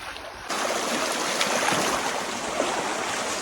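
Steady, dense rushing of flowing water at a waterfall in Bandarban, Bangladesh, begins abruptly and continues loud and unbroken.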